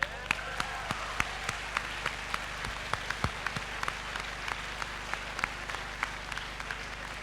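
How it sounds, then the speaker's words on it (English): Audience at a school event applauds the graduating class of 2023, a fairly quiet, sparse patter of individual claps over a low room hum. "Give a round of applause to the class of 2023"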